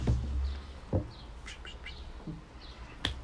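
Small bird chirps ring out in short, scattered bursts over a faint background hum, several high tweets spaced irregularly with no one speaking.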